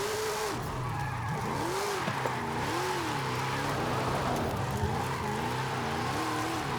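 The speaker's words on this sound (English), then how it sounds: "Lots and lots of slipping." Car tires slipping and squealing on snow in Forza Horizon 5 with a quirky sports car, a wavering skid tone riding over a steady engine drone that continues throughout.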